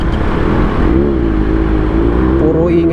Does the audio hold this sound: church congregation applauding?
no